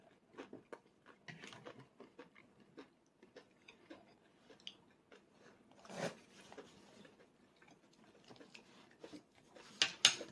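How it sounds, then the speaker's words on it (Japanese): Crunchy cabbage salad is chewed close up during a meal of creamy vegetable pasta, giving quiet, irregular crisp crunches and bites with gaps in between. "サラダ一緒に食べな美味しいよパリパリ食感があって"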